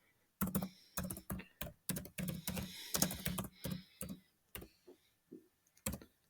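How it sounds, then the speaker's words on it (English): Quick bursts of keystrokes on a computer keyboard, close and crisp, with short pauses between runs of typing and no voices. "In Canva, I'm gonna type here."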